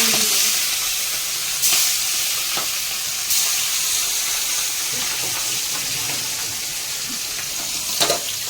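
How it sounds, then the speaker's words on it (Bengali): Fish frying in a home kitchen pan gives a loud, continuous hissing sizzle close up, broken by occasional clicks and spatters. "এদিকে মাছ ভাজা হচ্ছে"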